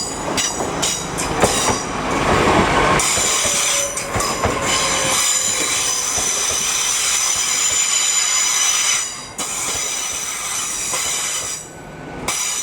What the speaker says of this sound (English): coming in now is the 13:51 Transpennine Express service to Newcastle.